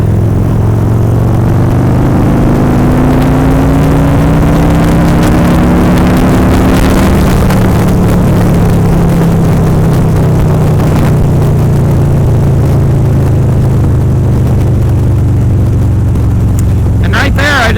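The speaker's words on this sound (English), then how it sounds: "Did a pull from about 45 up to about 75 in 5th gear." A Harley-Davidson motorcycle pulls from about 45 to 75 mph in 5th gear. Its loud, steady engine drone rises slowly in pitch with strong wind rush, recorded from on the bike over nearly eighteen seconds, and a voice can be heard faintly under it.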